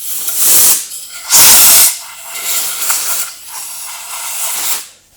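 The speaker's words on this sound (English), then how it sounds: "I like to do that with an air compressor. It just goes pretty quick, a little bit of compressed air." Compressed air from an air compressor nozzle blows metal chips off a drilled structural tube in several loud, close hissing blasts of varying length with short gaps between them.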